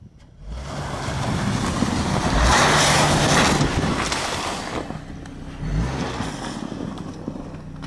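A 2013 Honda CR-V EX-L with all-wheel drive churns through snow, its engine rising into a loud, rushing roar with wind buffeting the microphone, then settling and surging again.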